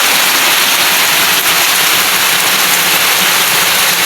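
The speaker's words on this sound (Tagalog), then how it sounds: "Napatakbo na po kami dahil sa lakas ng ulan." Heavy rain pouring down outdoors during a crab-catching trip, a loud dense unbroken hiss filling the whole clip with no voices.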